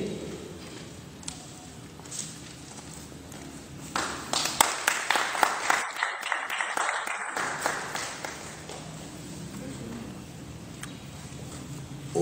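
An audience at a gathering of the Assocap Nationale du Cameroun in Obala breaks into applause, steady clapping swelling to a dense peak midway before tapering off, with some talk around it.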